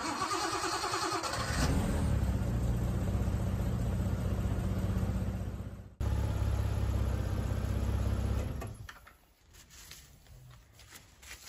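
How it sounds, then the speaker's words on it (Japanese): An old car's engine is started after an oil top-up to circulate the oil, cranking and catching into a steady mid-pitched idle with a slight rev, running for several seconds before shutting off, leaving quiet workshop ambience. "まあエンジンちょっとかけて、"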